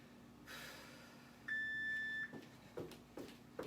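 A workout interval timer gives a single steady electronic beep lasting under a second in the middle, clear and close, with soft rustling and shuffling movement around it.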